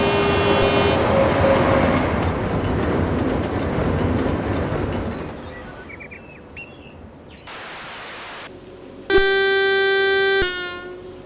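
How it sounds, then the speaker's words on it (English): DJ class diesel locomotive DJ 1255 running in Train Simulator on a passenger service on New Zealand's Midland Line, a loud engine rumble and rolling wheels, then quieter, then a sharp steady horn blast. "you get to drive DJ 1255 in a strange blue livery with grey cab and wasp stripes, on a short passenger run from Aickens to Aotearoa"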